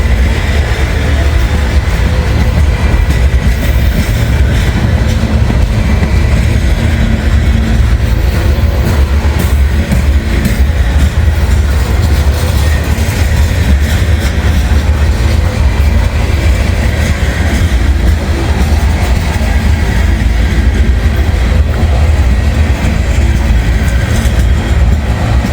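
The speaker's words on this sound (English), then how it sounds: "is a huge train." A huge, heavy freight train of over a hundred grain hopper cars rolls past close by, a loud, steady rumble with continuous clattering wheels that holds unbroken throughout, with no voices.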